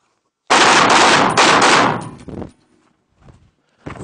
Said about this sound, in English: make sure you fire that last shot before you step out